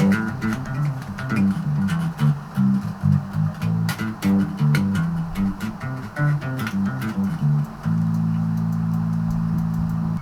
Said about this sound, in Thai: ลองดูเสียงเบสก่อน